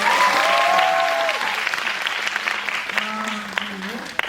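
An audience at a Korean film screening and director Q&A event applauds steadily for several seconds, the clapping fading a little toward the end while a host speaks over it.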